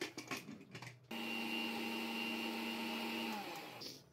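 An electric blender grinding the ingredients for a spicy tomato soup starts abruptly after some faint handling clatter, whirs loudly and steadily for a couple of seconds, then winds down in pitch as it switches off.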